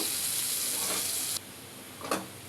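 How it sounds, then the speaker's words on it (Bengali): Steady hissing sizzle of eggs frying in hot oil, close by, cutting out abruptly partway through, followed by a brief stirring scrape. "এই ডিমটা এখন এই যে পিস ফিস করে আমি যেরকম তেলে ভাজা নেব"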